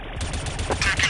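Gunfire in the video game Chicken Gun, a dense burst of rapid shots running through the whole short stretch, loud and close with no break.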